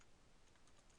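Someone types on a computer keyboard, a faint run of light, quick key taps in a quiet room, with a slightly louder click at the very end.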